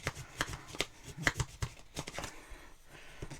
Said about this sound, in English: I'm going to open the bag here, and I'm going to go in with my bone folder